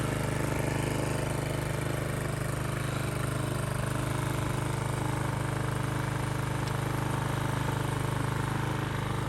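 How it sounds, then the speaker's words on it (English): A Husqvarna string trimmer's small two-stroke engine, freshly started after a carburetor cleaning, idles steadily and quietly, a continuous even hum holding for the whole stretch with no voices. "I actually like how quiet this engine is."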